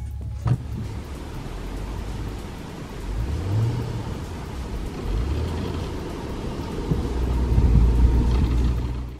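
A Honda Accord V6 pushes uphill through a foot of deep snow, its engine droning and revving in swells, with tyres churning and crunching close by and no voices.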